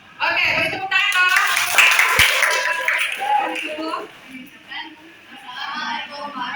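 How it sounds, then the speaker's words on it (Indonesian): Classroom applause in a school lesson, a short burst of clapping from a group mixed with voices talking, tapering off after a few seconds. "Oke, beri tepuk tangan."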